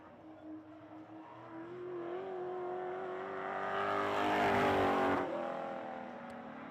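A Legends race car laps Hythe Motor Speedway, its engine droning steadily and climbing in pitch as it draws nearer, peaking loud and close before easing off as it pulls away.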